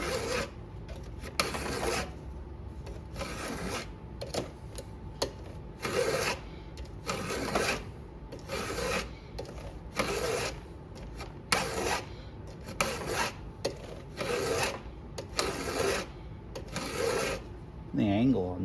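A file rasps across the teeth of a Stihl MS170 chainsaw chain held in a vise, in repeated steady strokes with brief pauses between them, close and fairly loud.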